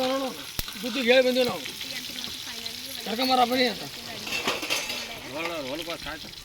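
Onions and chillies frying in a pan while being stirred, a steady sizzle with occasional utensil clinks beneath continuous talking.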